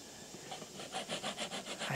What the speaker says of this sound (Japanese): でヤスリで整えてるんですけども